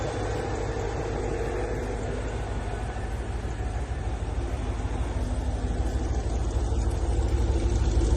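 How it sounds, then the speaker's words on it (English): A 1967 Ford F100 truck with a supercharged 6-liter engine idles steadily, a dense, continuous low rumble that holds at the same level throughout with no talking over it. "1967 F100 with a supercharged 6-liter"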